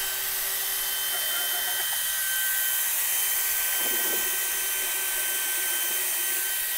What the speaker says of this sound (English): it's like a drill bit mixer